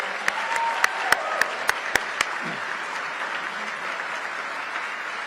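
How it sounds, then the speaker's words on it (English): Applause from an audience honoring Senator Debbie Stabenow at a Detroit Economic Club event, a steady wash of clapping with several sharp individual claps standing out early, sustained through the clip with no speech. "So one more round of applause for the Senator."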